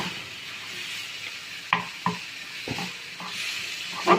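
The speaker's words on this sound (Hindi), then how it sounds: "उसमें हम ऐड करेंगे पानी, ताकि चिकन अच्छे से कुक हो जाए" Chicken for homemade shawarma frying in a pan with water added, a continuous gentle hiss and sizzle broken by a few scraping knocks of stirring, close with no talking.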